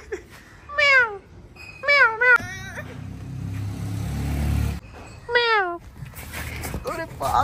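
A cat meows several times in short bursts near the microphone, with a steady rumbling engine-like drone underneath in the middle of the stretch.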